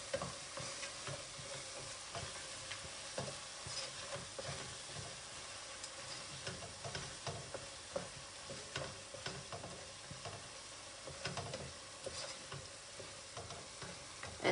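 Food fries in a pan with a faint, even sizzle. Soft, regular ticking and tapping from stirring runs through it, and nobody speaks.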